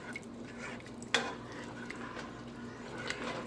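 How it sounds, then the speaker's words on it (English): Spoon stirring shrimp into a pot of boiling masaledar shrimp curry, with one sharp clink of utensil on the pot rim amid a steady low bubbling simmer. "Mix it up."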